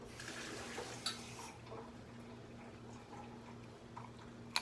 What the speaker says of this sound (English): I am going to add 2 tablespoons of cornstarch to about 2 tablespoons of water